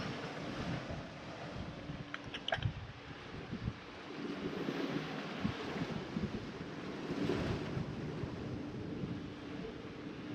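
Gusting wind buffets the microphone while waves slosh and surge against a sailboat hull on the Bay of Biscay, rising and falling in uneven swells with a brief clatter early on.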